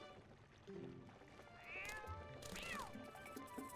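A cat meows twice in The Legend of Zelda: Twilight Princess HD, rising and falling calls over game background sounds and a fishing scene, clear and fairly close.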